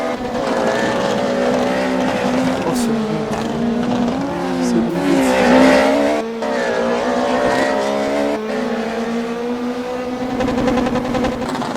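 A racing car engine in the Roblox video game drones loudly and continuously, its pitch rising and falling through gear changes and revs, with brief tire-squeal-like bursts and no talk over it.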